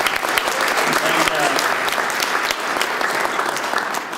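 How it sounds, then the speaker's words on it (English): A conference crowd at the opening session of PodCamp NYC applauds the speakers, sustained dense clapping from many hands throughout, loud and continuous, with some voices mixed in. "Big round of applause for all the speakers"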